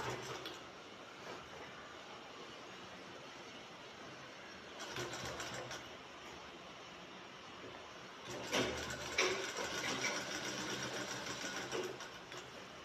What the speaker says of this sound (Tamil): ஆல்ரெடி நம்ம தையலுக்காக விட்டிருந்த துணியில் தைக்கிறோம்